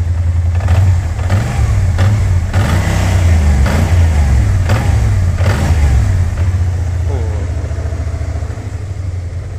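A KYMCO AK550 premium maxi-scooter with its standard exhaust revs loudly and close, the engine rising and falling in several sharp throttle blips over a steady low drone, with people talking at times underneath.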